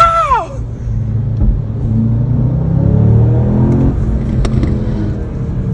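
A car engine revs up to about 4000 rpm, a close, loud, steady roar that rises and then holds. A brief whistle-like sweep comes at the start.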